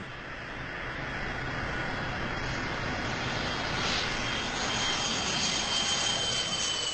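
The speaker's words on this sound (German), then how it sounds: "Als ob nichts wäre, landet eine weitere Passagiermaschine" Passenger airliner landing at Mogadishu airport in 1977, a steady broad jet-engine roar with a faint whine that swells slightly toward the end, heard at moderate distance with no talk.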